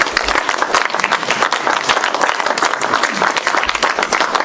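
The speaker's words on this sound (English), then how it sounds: "So let's give Rick a big round of applause." An audience at a Madison startup pitch gathering breaks into dense, steady applause that fills the room for the whole stretch. Many hands clap at once in a continuous wash, with no single claps standing out.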